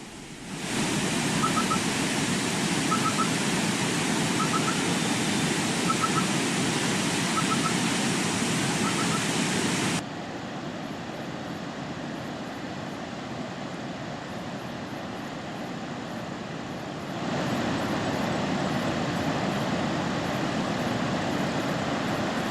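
Heavy flood water rushing through the ten raised gates of the Srisailam dam, a loud continuous roar that drops to a lower, duller level partway through before swelling again. No voices.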